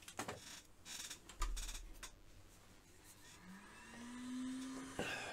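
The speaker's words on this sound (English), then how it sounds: "I've got the hot air gun set to 380." A hot air gun set to 380 degrees blows steadily onto a multimeter's temperature probe, a broad airy hiss with a rising motor whine, preceded by a few clicks and handling knocks, then ending with a sharp click.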